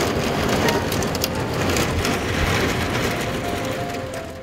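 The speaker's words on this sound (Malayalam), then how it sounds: "പിന്നെ അതാ ഭയങ്കര ഹെയിൽ സ്റ്റോമും മഴയും." Heavy hailstorm with rain in Serbia, a dense, steady patter and drumming on surfaces that stays loud and close throughout, easing only slightly near the end, with no voices.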